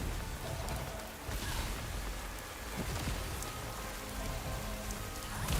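Steady rain patters on surfaces in the fantasy game world of Throne and Liberty, a constant hiss with scattered drops throughout, no voices.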